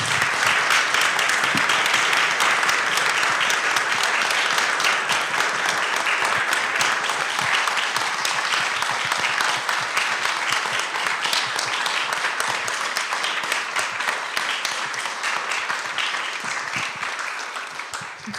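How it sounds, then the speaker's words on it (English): A general assembly audience at an art education world congress applauds steadily in remembrance of a late council member, a dense wash of clapping holding for the whole stretch and tapering slightly toward the end. "we can give an applause for her"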